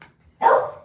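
A nervous dog gives one sharp, loud bark close by after a short quiet pause.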